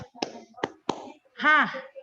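Hands clap in a counting clap game during a classroom lesson: a few sharp, close claps spaced evenly apart, followed by a short voiced sound.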